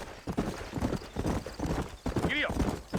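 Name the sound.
horses galloping, from video game Red Dead Redemption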